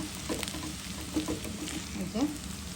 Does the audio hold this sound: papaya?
yes